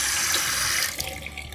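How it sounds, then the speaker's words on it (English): Running tap water pours steadily into a kitchen sink, a dishwashing sponge soaked under the stream, the flow briefly shifting and splashing partway through. "first you soak the sponge in water"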